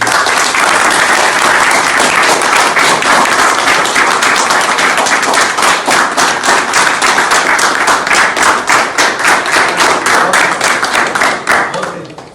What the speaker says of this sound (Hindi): हम सब के लिए ताली